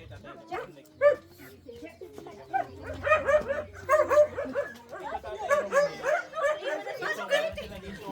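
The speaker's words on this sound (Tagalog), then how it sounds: "Ang lalaki ho ng mga aso dito." Several dogs at a rural Filipino home bark, yip and whimper in quick irregular bursts, fairly close and steady throughout, mixed with a crowd of people talking in the background.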